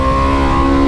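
Toprak's factory BMW M 1000 RR superbike engine roars at high revs, a loud, steady, close-up drone lasting about a second.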